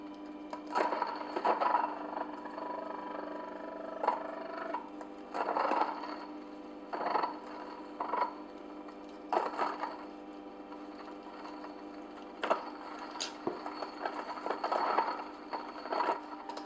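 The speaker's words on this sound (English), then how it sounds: "we're finished milling our yarrow" A small mill grinds dried, hand-picked yarrow into powder, giving an intermittent whirring buzz in bursts as the herb is fed into the top, close and moderately loud with no talking.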